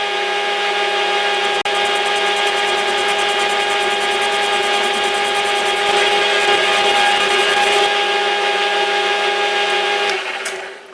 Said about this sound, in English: I was running the lathe at 500 RPM